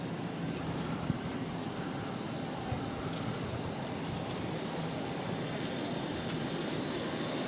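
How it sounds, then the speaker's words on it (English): A Delta Airlines plane takes off at Boston Logan airport, its engines a broad, steady roar heard at a distance, unbroken and even in level throughout. "Look at that takeoff."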